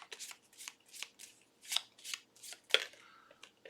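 Cards from the Legacy of Yu board game are shuffled by hand in a quiet room, a series of short papery riffles and snaps in an uneven rhythm, close and fairly soft.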